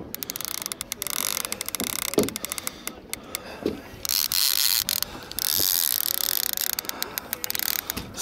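Clicking fishing reel drag as a big striped bass pulls line, a rapid ratcheting chatter in bursts that stop and start, close and fairly loud over wind and water noise.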